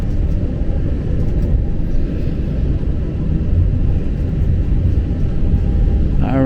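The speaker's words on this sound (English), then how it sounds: "Powering up the motors." Airplane motors powering up for takeoff on a return flight from Varadero, Cuba, a loud steady low roar filling the cabin throughout without any talk.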